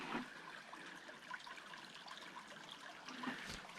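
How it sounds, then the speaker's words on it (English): Water trickling through a small hole in a creek bed on a forest trail, a faint, close, steady dribble with soft gurgles and no talk. "that little hole's got some water running through it"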